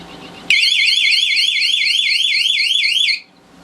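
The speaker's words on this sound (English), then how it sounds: "would go into an alarm and keep flashing lights like that" A fake airsoft nuke device from 2010 sounds a loud, warbling electronic alarm that sweeps up and down steadily for about three seconds, then cuts off abruptly.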